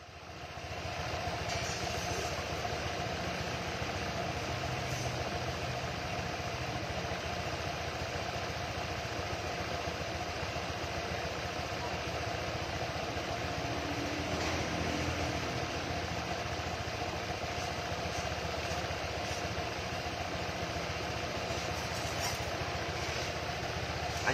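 A tuned motor scooter engine idles smoothly and steadily, a continuous close-up hum with no break or change across the whole stretch.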